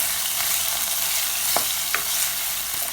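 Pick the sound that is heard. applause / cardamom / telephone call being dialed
cardamom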